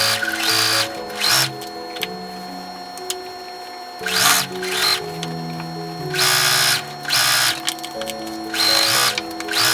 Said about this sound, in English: So I'm going to stay stitch at 1/4 of an inch seam allowance.